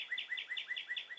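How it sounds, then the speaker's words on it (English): Outdoor cardinal song: a steady run of clear, repeated down-slurred whistled notes, about five per second, close and moderately loud with no talking. "I think that's what a cardinal sounds like."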